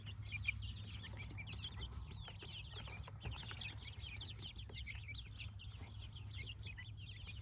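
Chickens cluck and chatter softly over a low steady hum, several birds calling in quick, overlapping bursts.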